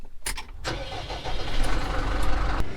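Engine of a tractor being started, several quick starter clicks and cranks, then the motor catches and settles into a loud, steady idle close by.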